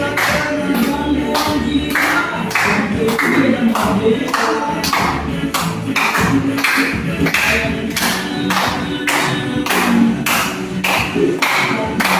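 Clapping from a classroom audience, a steady burst of many hands with sharp repeated slaps running throughout, fairly loud and close, with faint voices mixed in.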